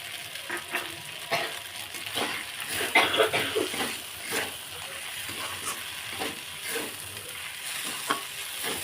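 Sago khichuri with fried peanuts sizzles in a pan while a spoon scrapes and stirs through it, giving soft, irregular scraping strokes over a steady low frying hiss, close and fairly quiet.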